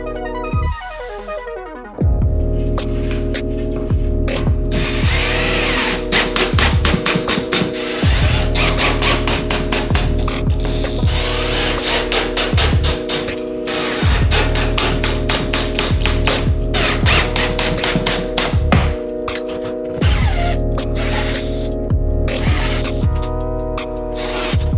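A power drill drives screws into a drywall panel held against a ceiling, its loud steady whirring running almost continuously with brief pauses between screws and a short quiet start.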